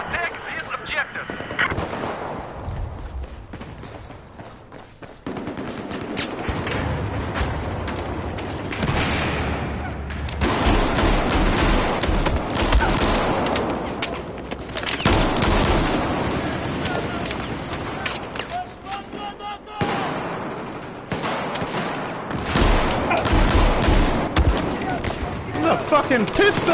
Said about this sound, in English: Let me roll with this grenade launcher shit, that grenade frag round shit right here for a moment.